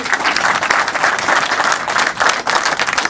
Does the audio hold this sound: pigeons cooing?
no